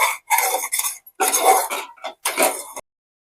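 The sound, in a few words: spoon scraping cream off sides of pot, making mango kulfi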